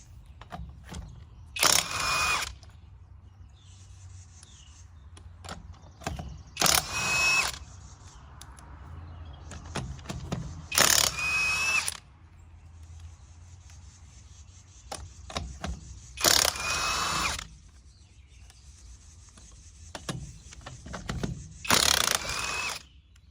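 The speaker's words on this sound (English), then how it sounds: "let's see how this impact does taking these lug nuts off and on" Klutch impact wrench from Northern Tool spinning lug nuts off a car in five loud, separate bursts, each a rattling hammering whir lasting about a second, with quiet gaps between.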